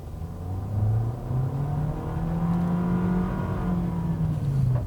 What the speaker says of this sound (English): the engine in this car is so buzzy, it just makes me not want to put my foot down at all in it